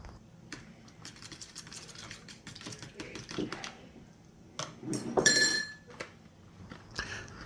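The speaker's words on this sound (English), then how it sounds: "Now here comes our 7 tablespoons of butter, all nicely melted. Let's get that all mixed in." Seven tablespoons of melted butter being mixed into a sour cream and milk batter for cornbread, with light clinks and taps of a utensil against a bowl, sparse and quiet with a few sharper knocks.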